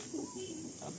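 Golden pigeons coo softly in short low murmurs, fairly close, against a steady background hiss, with a faint voice briefly in the mix.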